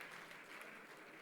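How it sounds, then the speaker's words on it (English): Audience applause at a university founders day ceremony, a steady wash of clapping from a crowd that stays fairly even and moderate throughout the short moment, with no voices standing out. "I think you should clap because he has done also"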